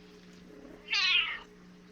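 A single short cat meow, clear and fairly close, in an otherwise quiet room with a faint hum.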